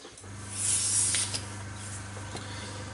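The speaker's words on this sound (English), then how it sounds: "Hopefully the compressor won't be too loud." A hobby airbrush fed by an air compressor sprays paint in a close, soft hiss that swells and then settles into a steady flow, with a low compressor hum underneath.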